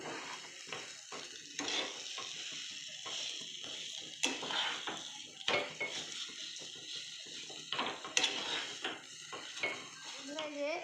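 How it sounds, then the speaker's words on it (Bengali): Semolina dough is stirred and scraped in a pan, giving repeated close scraping strokes and light metallic clinks with a faint sizzle underneath, while a voice speaks now and then. "এটাকে ভালো করে নাড়তে হবে এখন"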